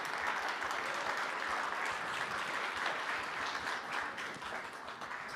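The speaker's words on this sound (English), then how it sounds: "Applause." An audience gives sustained applause after a startup pitch at a pitch fest showcase. The dense, even clapping of many hands holds loud throughout and tapers slightly near the end.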